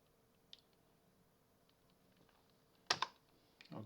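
A few quiet, isolated keystrokes tap on a computer keyboard while a password is changed, sparse clicks with longer pauses between them and a slightly louder cluster near the end.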